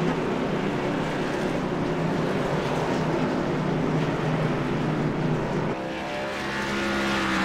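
Race cars roll down pit road during a stock car race, a thick, continuous engine roar that holds steady and then shifts slightly in tone near the end, loud and without commentary.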